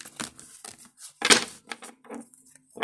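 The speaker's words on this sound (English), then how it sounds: "I'm just going to shuffle a few more times" Tarot cards shuffled by hand in bursts of papery riffling and crinkling, close and fairly quiet, with short gaps between the shuffles.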